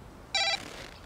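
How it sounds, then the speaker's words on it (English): A mobile phone ringing, one short, bright electronic chime burst that rises clearly above a quiet room background and then stops. "that's my phone"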